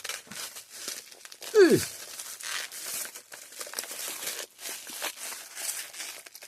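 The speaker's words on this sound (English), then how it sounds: "Man, this foil sticks like hell." Stubborn foil wrapping is peeled and torn off a newly unboxed electronic gadget, giving close, rustling crinkles with one sharper tearing rip partway through. The crinkling stays fairly soft and continuous, with no voice over it.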